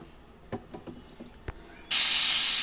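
A pomfret drops into hot oil and bursts into a loud, sustained sizzling hiss at close range, following a few soft knocks and clicks beforehand.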